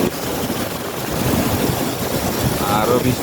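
Cars drive through rain-flooded roads in Abu Dhabi, throwing up a loud, continuous rush of splashing water mixed with heavy wind buffeting on the microphone.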